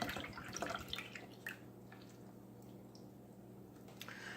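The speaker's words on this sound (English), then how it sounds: "And then I'm just going to add some regular beef broth to that." Beef broth poured into a cooking pot, a soft steady liquid trickle with a few drips and splashes, close and quiet.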